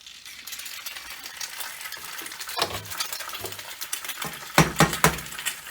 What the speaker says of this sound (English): immediately you want to start cracking eggs into this pan.